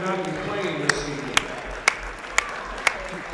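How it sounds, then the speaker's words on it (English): Spectators in a high school boys' basketball gym give the game officials a moderate round of applause, a soft, diffuse wash of clapping with a few sharp, ringing pings standing out at regular intervals. "How about a nice round of applause, because without these guys we would not be playing this evening."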